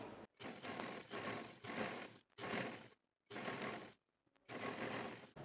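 A sewing machine runs fine pintuck stitches along a trouser piece in several steady mechanical bursts, each separated by a short silent pause. No voices.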